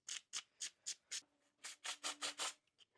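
Rust being scrubbed off a motorcycle clutch cable adjuster, about ten quick, evenly spaced rubbing strokes up close, each a short hissy scrape with brief pauses between.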